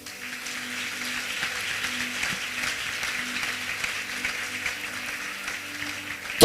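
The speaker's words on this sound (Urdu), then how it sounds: "پھر آپ نے تالیاں مار لو." A church congregation claps steadily at moderate distance, a sustained even round of applause under a low background hum.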